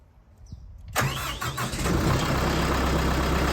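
An engine with a clutch lever cranks and catches at about one second, then runs on as a loud, steady, rumbling idle close by with no talk.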